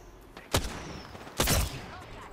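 Two sharp, loud gunshot bursts in the battle royale shooter Apex Legends, spaced about a second apart, each decaying into a short crackling tail over steady background noise.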